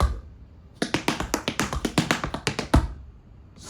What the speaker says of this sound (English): Scuff, brush, step, heel. Or scuff, brush, and roll